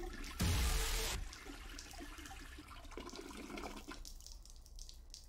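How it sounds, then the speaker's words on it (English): A toilet flushes in a video game bathroom, a loud rushing burst of water lasting under a second, followed by a steady trickle and refill that carries on quietly. "flushed it down the toilet"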